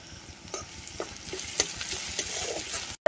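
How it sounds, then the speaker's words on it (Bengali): Crushed garlic being fried and stirred in a pan, a soft continuous sizzle broken by a few sharp scraping stirs, close and alone. "এবার থেতো করা রসুন দেবো"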